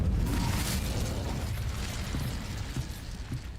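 An Incendio fire spell is cast in Hogwarts Legacy, giving a loud burst of roaring flame that eases down and ends in a few faint crackling pops.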